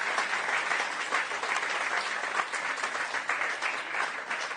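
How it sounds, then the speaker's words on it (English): Audience in a hall at an outreach program on India's Aditya-L1 solar mission clapping steadily and continuously, a dense even applause heard from a little distance. "I would like all of you to clap for your tremendous performance."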